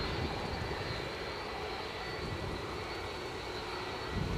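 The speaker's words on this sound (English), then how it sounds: "Next plane in for us is a Lufthansa in Star Alliance special livery, an A319-100 inbound from Munich" Steady engine roar from a Lufthansa Airbus A319-100 arriving at Edinburgh from Munich, a continuous moderate rumble with a faint rise at the very end and no talk.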